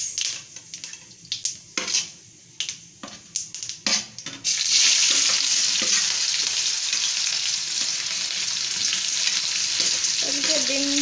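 Chopped onions hit hot oil in a wok, already spitting with whole cumin seeds, and set off a loud, steady sizzle after a run of clinks and stirring knocks, with no talking.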